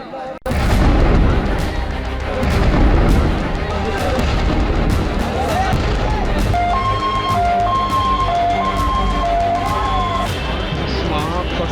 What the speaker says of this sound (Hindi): सिलेंडर का जो ब्लास्ट लगातार हो रहा था